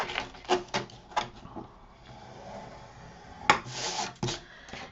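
Scoring paper flaps for a mini album, faint close scraping strokes in short bursts with quiet pauses between, soft and intermittent.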